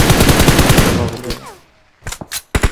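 Rapid automatic gunfire from PUBG Mobile on the Miramar desert map comes as a loud, dense burst, then fades. A few sharp single shots follow after a short pause.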